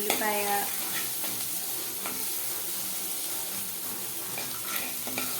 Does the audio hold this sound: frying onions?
yes